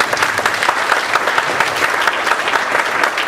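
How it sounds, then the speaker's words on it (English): Conference audience applauding steadily and fairly loud in a hall, a dense wash of many hands clapping throughout with no talk over it. "Show of applause."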